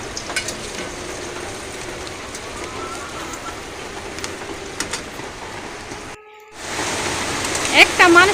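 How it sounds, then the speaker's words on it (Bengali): Fish frying in a pan gives off a continuous crackling sizzle that drops out briefly and then returns louder and busier, with a person talking over it. "তো মাছগুলো আমি ভেজে নিব আগে"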